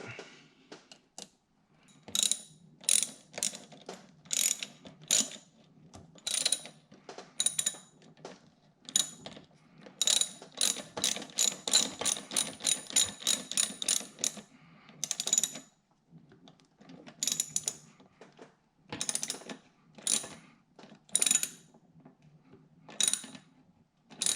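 A hand ratchet clicks in repeated bursts while tightening a Bwoody cold air intake on a Dodge Challenger Hellcat, with fast runs of sharp metallic pawl clicks separated by short pauses, close and clear, without talking.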